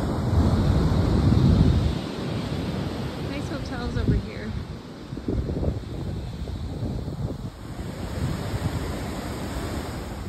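Broad, steady roar of big surf breaking on a beach in Sayulita, Mexico, heaviest at the start, with wind buffeting the microphone throughout.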